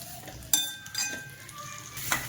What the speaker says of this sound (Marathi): हिला चांगलं मिक्स करायचं सारखं.